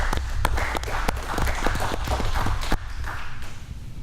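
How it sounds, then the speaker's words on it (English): An audience claps at a university football weekly press conference held at a local business, with dense, irregular hand claps sustained across the clip over a low background hum, then thinning slightly toward the end. "let's give Mr. Tony Down a round of applause to let us come out to his establishment today."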